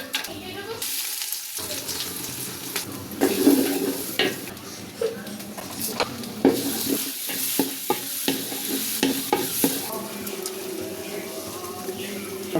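Green chilies fry in hot oil in a pan, a close hissing sizzle with repeated sharp pops and crackles, plus occasional stirring scrapes and utensil clinks.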